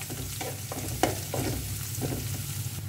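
Chopped garlic frying in a pan for dal tadka gives a soft, steady sizzle broken by several light stirring scrapes and one sharper clink, close up and without speech.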